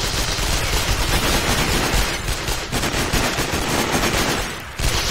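Sustained enemy gunfire fills a scene in the Sniper: Ghost Warrior shooter game, a dense continuous rattle of automatic weapons at high, steady loudness with barely a pause throughout.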